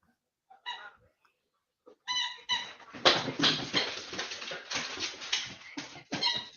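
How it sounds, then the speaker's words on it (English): A puppy at night, barking and whimpering in short bursts near the microphone, with a few isolated yelps followed by a longer run of repeated vocalizations. "It's the puppy that still wants to play at almost midnight."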